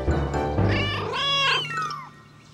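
Cartoon kittens meowing in a rising, overlapping chorus of high, tonal cries with a low hum beneath, loud and close throughout.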